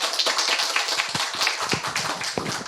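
An audience applauds to welcome a children's author at a library book fair event, steady dense clapping from a modest crowd throughout, close and fairly loud.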